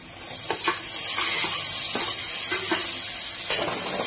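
Finely chopped tomatoes hit onions frying in a pan for hotel-style shev bhaji, giving a steady close sizzle with a few scraping stirs and clatters, no talking.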